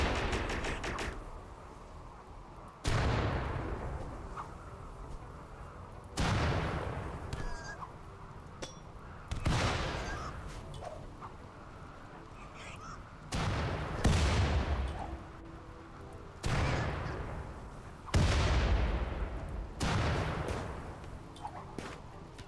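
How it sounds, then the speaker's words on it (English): Robot laser fire in the RimWorld game: six or seven sharp blasts with long decaying tails, spaced a few seconds apart, each rising loud over a low steady hum. "Cyclops, hold them off. Laser beam them into oblivion."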